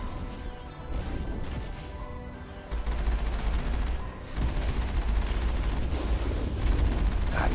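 Gunfire in the Mass Effect video game, a dense steady stream of shots and impacts running alongside continuous game music and effects, loud and without pause.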